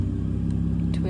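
2025 Ford Raptor pickup with a twin-turbo engine gives off a close, steady, deep engine hum with a constant pitch through the brief moment.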